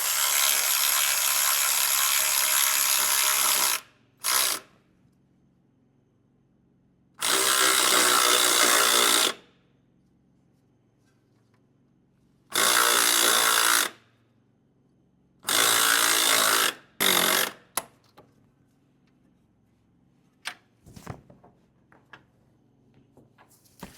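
A ratchet wrench tightens the pulley and belt tensioner on a Jeep Cherokee XJ during an alternator replacement, in several loud bursts of rapid clicking separated by silences, followed by scattered light metallic taps.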